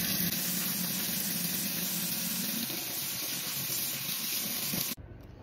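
Hot tap water running steadily over the parts of a disassembled essential oil diffuser in a sink, a constant hissing splash that cuts off abruptly near the end, leaving near silence.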